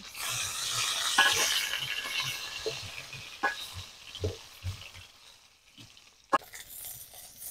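Snakehead fish pieces fry in oil in a pan, a soft sizzling hiss early on that thins into scattered crackles and pops, with one sharp spit near the end.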